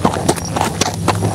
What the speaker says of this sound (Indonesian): kuda yang saya tunggangi ini adalah kuda peninggalan dulu ya